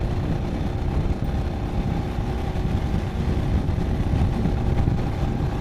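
A motorcycle engine rumbles continuously while riding, a loud, dense low drone with no pauses and no talking.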